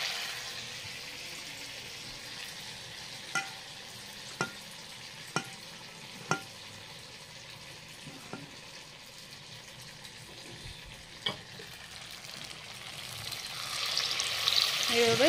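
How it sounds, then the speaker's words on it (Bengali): Pieces frying in hot oil in a pan while making bitter gourd fritters, a faint steady sizzle with several sharp spatula taps at irregular intervals, growing louder and brighter toward the end. "এখানে তেল আমার গরম হয়ে গেছে, এবার এটা তেলে দিয়ে দিম।"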